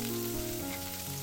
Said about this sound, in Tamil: இப்போது 2 பேன்லேயுமே கொஞ்சம் வெங்காயத்தையும் போட்டு கூட உப்பையும் சேர்த்து வதக்கி விட்டுறேன்